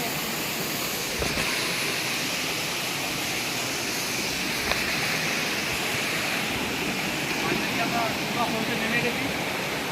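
Bamni waterfall at Turga falls near Ajodhya pours with a continuous, dense roar of rushing water, steady and fairly loud throughout, with faint voices in the background.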